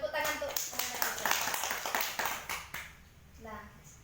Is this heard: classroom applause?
yes